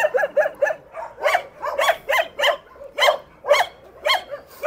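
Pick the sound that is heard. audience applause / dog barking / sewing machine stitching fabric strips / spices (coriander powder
dog barking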